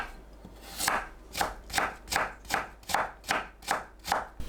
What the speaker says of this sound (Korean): 당근을 채 썰어줍니다.